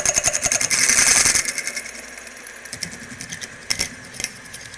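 A rotary cutting tool at low speed bores a short hole in a pistol slide for a red dot sight, starting with a loud grinding buzz for just over a second, then falling to quieter intermittent rattles and clicks.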